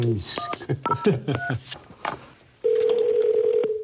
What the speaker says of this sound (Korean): 일단 제가 전화를 해보죠